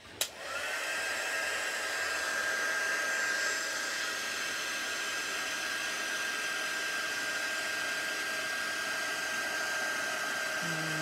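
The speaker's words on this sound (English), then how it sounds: "You can take ages to actually heat set it." Heat tool setting embossing powder, blowing as a steady, close, loud airy whir with a fixed tonal hum that starts abruptly and runs continuously to the end.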